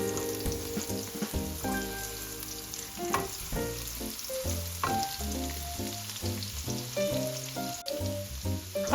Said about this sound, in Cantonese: 我哋而家原鑊再加啲油，爆香頭先切咗嘅乾葱同埋蒜蓉先，連同頭先切咗嘅薑同埋葱白都一齊放埋入去